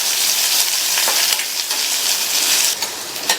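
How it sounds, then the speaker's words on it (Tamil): Chopped medium onion sautéing in hot oil in a pan, a steady close sizzle and frying hiss throughout with small stir scrapes and crackles, no talking. "இந்த வெங்காயம் லைட்டாக வதங்கினா போதும்."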